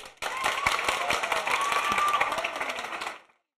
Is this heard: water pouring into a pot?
no